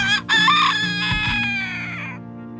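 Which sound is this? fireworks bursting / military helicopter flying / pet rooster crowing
pet rooster crowing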